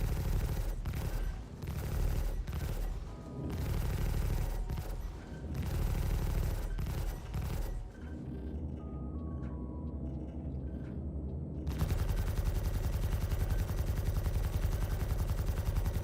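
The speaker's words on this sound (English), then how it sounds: "Do some precision shooting" Rapid bursts of gunfire in the Star Citizen video game crackle loudly for several seconds, then drop to a near-silent pause before a steady engine-like rumble takes over.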